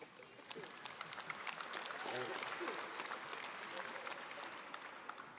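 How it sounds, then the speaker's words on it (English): Applause from a graduation celebration audience for student athletes, a steady broadband patter of many hands sustained throughout at moderate level, with voices mixed in. "give yourself a pat on the back or a round of applause"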